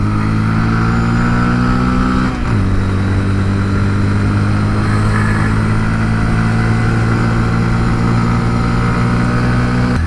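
A motorcycle climbing a hill holds a loud, steady engine drone close to the rider, with one brief dip in pitch as it shifts gear before the revs settle back into a sustained hum.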